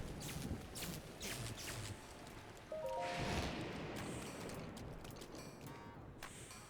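Steady video game rain from Zelda: Breath of the Wild patters across the whole stretch, with scattered clicks and drips on top and a brief tonal beep partway through.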